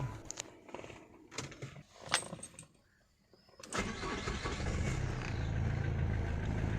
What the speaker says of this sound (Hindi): गाड़ी को स्टार्ट करते हैं और चले जाते हैं टेस्ट ड्राइव लेने के लिए।